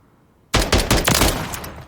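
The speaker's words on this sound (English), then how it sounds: "we'll jump to the gun range with these ones so you guys can check these out. So first, our Socom 16." A Socom 16 rifle fired on a Call of Duty: Modern Warfare gun range: after a short quiet moment, a quick burst of loud, close, cracking shots in rapid succession, the last report trailing off into echo.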